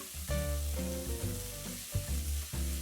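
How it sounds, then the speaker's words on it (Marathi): Coriander powder, curry leaves and ginger paste sauté in hot oil, giving a steady sizzle under a louder layer of sustained musical tones that stop and restart several times. "त्यात मी 1 टेबलस्पून कुटलेले धण्याची पूड घालून घेणार आहे आणि कढीपत्ता आणि 1 चमचा आल्याची पेस्ट घालून ती मी 2 मिनिटं परतून घेणार आहे"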